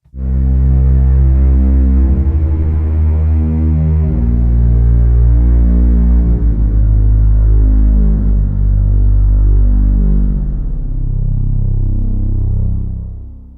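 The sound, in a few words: synthesizer hybrid warm string section pad bass preset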